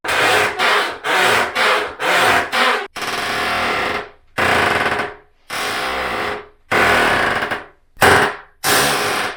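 A squeaky hinge on a door in a half bath remodel creaks and rubs loudly and close by as the door swings back and forth repeatedly, in a series of drawn-out groaning strokes separated by short pauses, with no voices.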